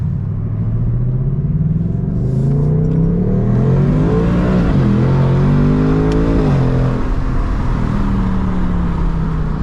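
2024 Mustang GT engine heard from inside the car during a drive, a loud steady rumble that climbs through a couple of rising rev sweeps, drops as a gear changes, then settles into a cruising drone.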